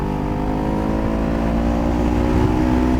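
A Honda CB500S motorcycle pulls out and accelerates to overtake on a road, its engine a steady, close, loud drone with rising harmonics throughout, nobody talking.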